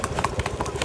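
A mare's hooves clip-clopping in a village in Muzaffarnagar district, a quick, steady run of close hoofbeats with people talking over them.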